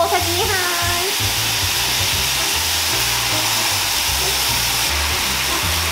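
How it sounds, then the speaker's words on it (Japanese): Ingredients stir-fried in a pan over high heat give a loud, continuous hissing sizzle that holds steady throughout, with a short wavering tonal sound at the very start. "こうなるまで結構強火でガーッと大胆にね炒めちゃって大丈夫です"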